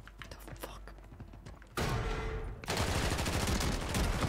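Gunfire in the video game Call of Duty Warzone: soft clicks and game noise at first, then loud bursts of rapid automatic fire that break in and continue dense to the end.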